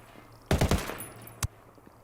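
MK-17 rifle gunshots in Ghost Recon Wildlands, a quick cluster of three or four sharp close reports followed by one more isolated crack a moment later, against a quiet backdrop.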